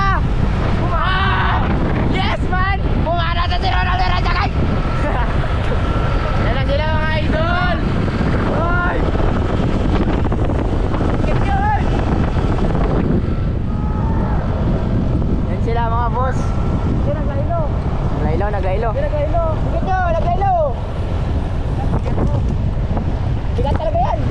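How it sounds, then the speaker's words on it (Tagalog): Strong wind roars steadily into the microphone throughout, a loud continuous rumble with voices shouting and talking over it. "lakas ng hangin mga idol"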